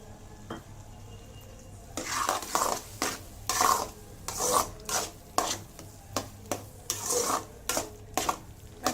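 A spoon stirs rava kesari, a semolina sweet, in a pan. Steady rhythmic scraping strokes about twice a second carry a soft frying sizzle, fairly close and with no voices.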